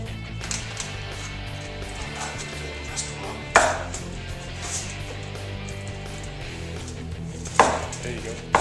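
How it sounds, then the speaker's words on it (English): A knife saws down through a deep-dish Chicago-style pizza in two sharp, separate strokes, each a brief crunchy scrape heard over steady background music. "It's too deep for the pizza cutter. So we're gonna have to use a knife and cut it"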